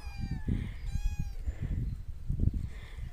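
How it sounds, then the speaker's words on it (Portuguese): Kittens on a rural farm meowing in thin, high, repeated cries, faint and somewhat distant over steady outdoor background noise. "Olha os gatinhos, gente."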